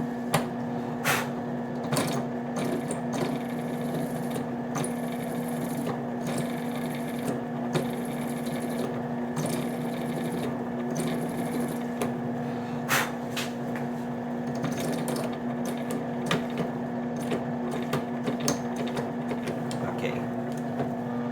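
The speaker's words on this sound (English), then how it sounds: "I'll have to go to a next size bigger bit and clear out the little bit that's remaining around the outside rim." A drill bit grinds out the pinned rivet of a Spyderco Manix 2 knife with an M4 blade, a steady close motor whine with intermittent clicks and knocks as the bit bounces against the metal.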